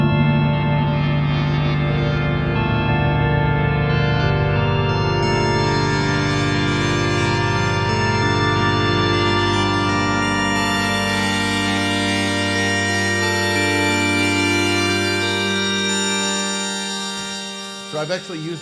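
Evolving Waves FM patch on a Yamaha MODX synthesizer, a sustained layered chord whose bright upper tones shift and ripple slowly, holding steady and loud before fading near the end.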